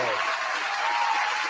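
A crowd claps together in a lively room, a dense, continuous wash of applause held close and loud for the whole moment, with cheers or calls mixed in.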